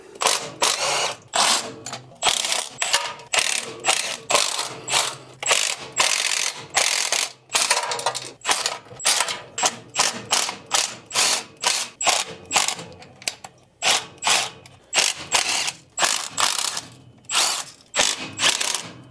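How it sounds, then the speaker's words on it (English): Ratchet wrench loosening intake manifold bolts on an engine during a leaking gasket repair, a steady run of close, loud rhythmic clicking strokes with brief pauses between bursts and no talking. "Then you can start removing your intake bolts."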